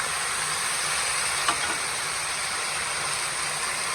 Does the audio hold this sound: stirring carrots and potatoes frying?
yes